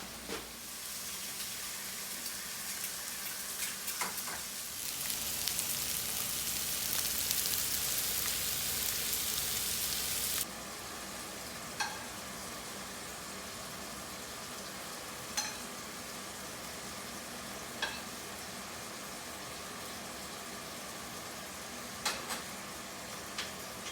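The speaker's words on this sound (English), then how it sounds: "We also have some pork bellies that I marinated in our favorite spices, so we're going to fry that as well." Spice-marinated pork belly fries in a pan, giving a steady hissing sizzle that swells loudly for a few seconds, then settles into a quieter crackle with occasional sharp pops.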